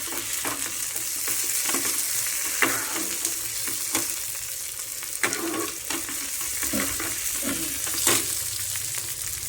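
Onion frying in oil for chicken curry, with a continuous close sizzle and repeated spoon scrapes and stirs against the pan, no voices.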